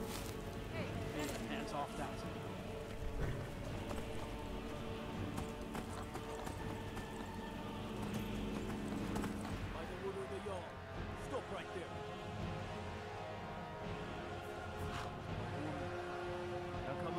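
Hooves clopping in a quick galloping rhythm, a horse running with an occasional whinny in Skyrim Special Edition, mixed with game sounds and a voice speaking over it.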